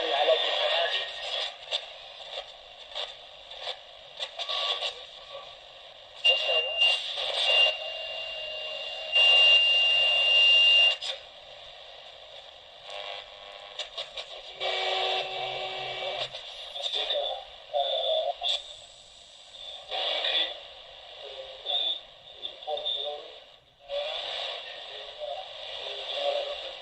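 Shortwave reception on a Kchibo 9813 (ROCKA 11 band) radio: hissy static, warbling electronic noise and faint Arabic broadcast voices fading in and out, with brief whistling tones and choppy dropouts.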